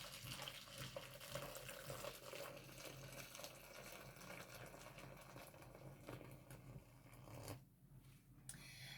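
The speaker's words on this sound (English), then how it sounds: "And then just get the water, hot water." Hot water runs steadily from a tap into a basin, a continuous close hiss and splash used for washing broken ceramic pieces before repair. The flow is quiet and cuts off briefly near the end.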